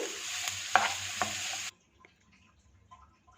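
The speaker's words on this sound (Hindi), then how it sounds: "इसमें कटिंग किए हुए प्याज को भी शामिल कर देंगे। हीट को मीडियम रखेंगे। इसे लाइट गोल्डन होने तक फ्राई कर लेंगे।" Chopped onions fry in hot oil over medium heat for keema samosa filling, giving a steady sizzle with a couple of stirring clinks, then the sizzle cuts off abruptly, leaving near silence with faint kitchen knocks.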